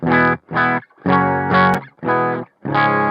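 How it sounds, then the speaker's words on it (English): A clean, dry electric guitar signal runs through a loop switcher with no effects, playing six loud, sharp strummed chord stabs in a steady rhythm separated by brief silences. "I have that set up to be my clean signal. It's just a dry guitar."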